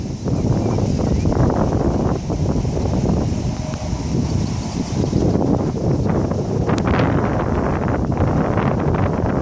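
Steady wind gusts buffet the microphone beside a lake, a dense continuous rush with a brief higher rustle midway, no voices.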